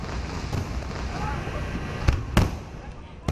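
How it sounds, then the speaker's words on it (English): A fireworks show seen from a busy highway gives a rumbling wash of distant crackles, with two sharp, louder bangs standing out near the end. "watch the fireworks show"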